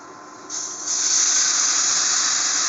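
Hot water pours into a hot pan of frying lentil and rice khichdi, with a loud, rising steamy hiss that swells after a moment and holds steady to the end.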